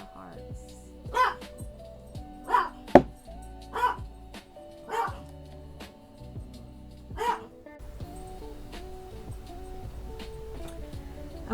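A blind, special-needs Yorkie barks in a string of sharp, spaced yips mixed with whimpers, close and loud, fading into quiet indoor background.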